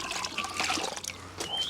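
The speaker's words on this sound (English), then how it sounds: "This is a point where my road mic falls into the water bucket." A microphone falling into a water bucket while a Mercedes W202 C280 is cleaned, close sloshing and trickling water with a few splashy bursts, fairly quiet.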